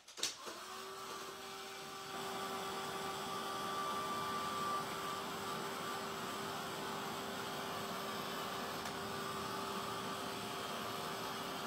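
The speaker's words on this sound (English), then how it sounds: "I'm going to hit that with the heat tool." A heat tool blows steadily over acrylic paint on an art journal page, a faint continuous airy hum with a thin whine, starting after a brief click.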